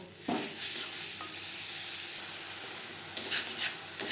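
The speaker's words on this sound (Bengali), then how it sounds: "গুড়ের সাথে নারকেল বেশ ভালো করে মিক্সড করে দেব" Grated coconut is stirred into melted jaggery in a pan, a soft continuous bubbling hiss with a scraping stir stroke near the start and a few more scrapes toward the end.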